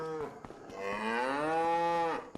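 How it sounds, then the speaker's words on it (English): A single long cow moo with a rich harmonic tone, swelling and fading over about two seconds, comes from a herd of cattle in a farming video game, close and clear with faint clicks around it. "We do have a lot of cows. There they are, 50 of them."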